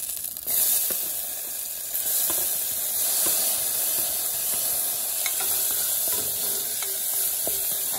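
Onions frying in oil in a pan give a steady close sizzle and hiss, with occasional light scrapes and taps of a stirring utensil and no talk.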